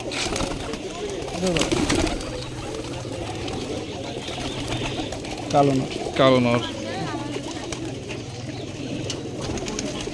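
Cross-breed pigeons coo steadily in a crowded loft, with a couple of louder bursts midway and people talking over them throughout.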